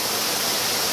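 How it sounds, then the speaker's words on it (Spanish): La Alemana waterfall in Villacarmelo, Cali, pours in a dense, steady broadband rush, loud and close with no voices. "en este momento están viendo la cascada La Alemana"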